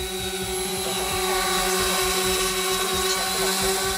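A DJI Spark drone lifts off and flies, its small propellers producing a steady, loud high-pitched whine with strong tonal hum that holds continuously throughout, close to the listener, with no talking.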